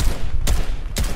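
Gunfire in the video game Fortnite: two sharp, loud shots about half a second apart ring out over a steady background hum.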